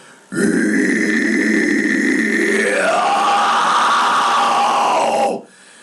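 A man demonstrates a low scream growl vocal technique in one long, loud, raspy exhaled roar that holds for about five seconds, shifting downward in pitch partway through and then cutting off abruptly.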